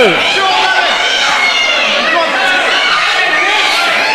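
A wrestling crowd reacts in disbelief to a near fall during an APW Breakout show, a dense wash of murmuring, shouting voices that holds steady and loud throughout.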